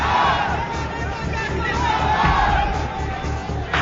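A large crowd at Talkatora Stadium chants Modi's name, a dense, loud roar of many voices sustained throughout with rhythmic surges.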